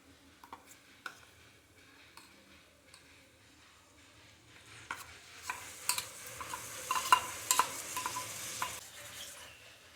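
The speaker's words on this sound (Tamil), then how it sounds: "இந்த மசாலா சேர்த்து வதக்கும்போது வாசனை ரொம்ப சூப்பராக வருங்க" Ground biryani masala paste stirred in hot oil for vegetable biryani, with spoon scrapes and clinks against the pot, a soft sizzle building louder in the second half.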